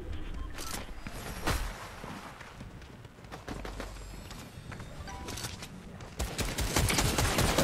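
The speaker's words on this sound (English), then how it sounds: "Oh, he's like shooting at me." Video game shooter gunfire crackles in rapid bursts and scattered single shots at varying distances, building into a heavier barrage toward the end with no talk.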